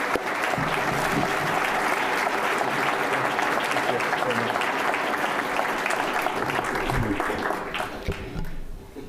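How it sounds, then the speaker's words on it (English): An audience at an evening lecture applauds the introduced speaker, a sustained, dense round of clapping from a full hall that holds steady and then thins out at the end. "One round of applause, please."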